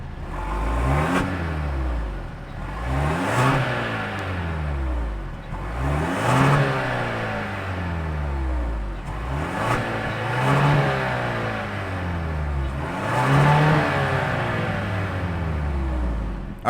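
The 2.5-liter turbo engine of a 2022 Genesis GV80 is revved repeatedly while parked: about six rising and falling sweeps, each climbing to a roar and dropping back, heard close with no talking.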